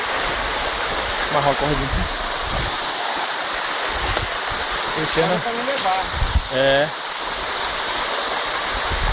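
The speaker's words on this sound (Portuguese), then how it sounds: "Ali já é outra cachoeira, depois é outra, depois é outra, é outra." A waterfall in Chapada Imperial pours with a steady, broadband rush that runs through the whole clip, while people chat over it.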